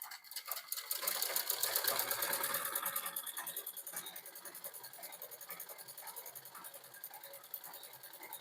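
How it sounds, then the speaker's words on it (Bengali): A sewing machine runs steadily while stitching a folded edge of a shirt collar, its fast even needle clatter close and continuous, starting loud and easing slightly, with no talking. "সর্বপ্রথমে আমরা এই কলারটার একটা সাইড মুড়িয়ে সেলাই করে নেব"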